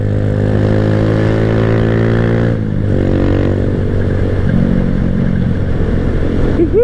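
A Keeway CR152 scrambler motorcycle drones steadily at close range during a noon ride, its engine tone holding and then shifting as the rider changes speed, with wind noise underneath.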